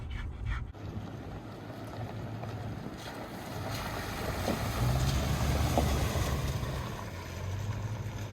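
Wind roars steadily across the microphone at a mountain campsite in the San Juan Mountains, building to stronger gusts midway before easing slightly; no voices.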